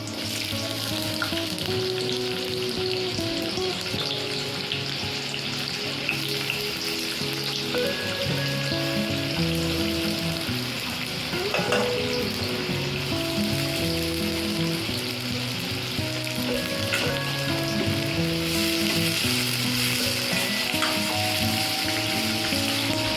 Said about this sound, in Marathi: तेल गरम झालं, आता जिरं टाकत आहे.